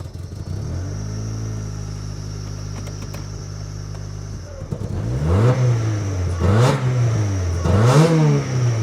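A 7th gen Honda Civic engine catches and settles into a low idle, then is revved three times in quick succession, each rise and fall loud and close.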